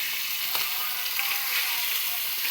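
Fish frying in a pan gives a steady, hissing sizzle of hot oil with scattered small pops and crackles, close and continuous, without voices.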